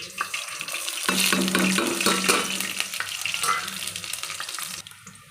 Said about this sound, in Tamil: இது நல்லா பொரிஞ்சிருச்சுது.